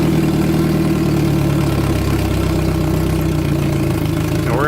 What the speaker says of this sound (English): So we're going to go ahead and start it up.